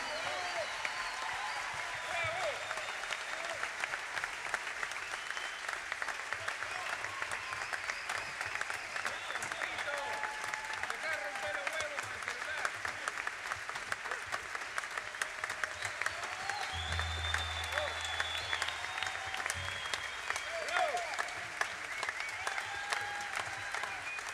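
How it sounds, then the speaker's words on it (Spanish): An audience at a jazz festival in Argentina applauds in a long, steady wash of many hands, moderately distant and even, with no clear pauses. "Un aplauso para Flopa Zugdorf, una prometedora voz de la música de jazz en Argentina."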